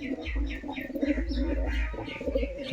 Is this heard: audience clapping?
no